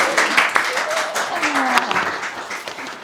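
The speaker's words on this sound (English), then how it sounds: "Give a round of applause." Audience applause at a conference session, steady clapping from a moderate crowd with a voice speaking over it.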